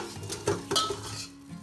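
Stir-fried chicken is moved into a stew pot, giving a brief clatter of a utensil knocking against the metal pot with a couple of sharp clinks.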